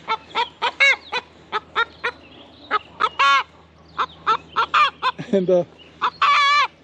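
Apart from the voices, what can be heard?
chickens clucking in the bushes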